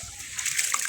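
Water splashes and sloshes as paddy seed is washed, a short busy burst of wet splattering close by with no voices.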